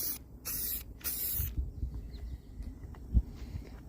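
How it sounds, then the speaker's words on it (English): Aerosol spray paint can hissing in several short bursts as marks are sprayed onto a road surface outdoors, bright close hisses separated by brief pauses over low background rumble. "Like spray paint one call."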